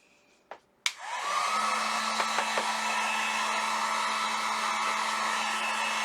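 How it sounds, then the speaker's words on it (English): A heat gun drying a freshly stencilled banner: after a couple of clicks it whooshes on and settles into a loud, steady blowing roar with a constant motor whine, close by and uninterrupted, with no one talking. "Okay, so I'm going to go ahead and dry this with my heat gun."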